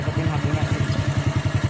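A Honda Astrea motorcycle engine runs close by with a quick, even pulsing beat as the throttle is blipped, with someone talking over it.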